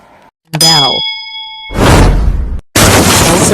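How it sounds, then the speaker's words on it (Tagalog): A bell sound effect rings once with a clear, sustained metallic ding that holds for about a second, followed by two loud bursts of broadband crashing noise. "Bell."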